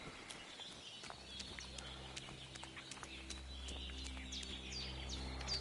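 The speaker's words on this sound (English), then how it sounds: "Like the sounds of the birds whistling" Birds whistling in the medieval video game Kingdom Come: Deliverance II, faint scattered chirps and tweets over a low ambient hum, quiet and distant.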